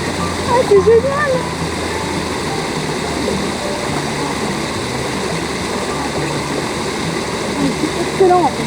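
Small river flowing steadily nearby, a continuous broadband wash of water with occasional brief splashy accents; a faint voice may be present early on.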